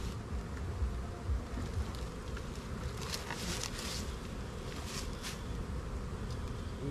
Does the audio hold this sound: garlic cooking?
no